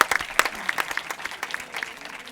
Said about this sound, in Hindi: जोरदार तालियां टीम बलौदाबाजार के लिए।